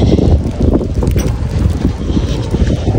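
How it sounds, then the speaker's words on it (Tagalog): Strong wind in snowy Greenland buffets the microphone with a steady, loud roar and gusty low rumble throughout, no one speaking. "lakas ng hangin"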